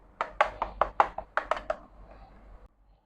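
Fast run of clacky key presses on a XUNFOX K95 plastic mechanical gaming keyboard with blue switches, about a dozen sharp close clicks in quick bursts, then trailing off into quiet.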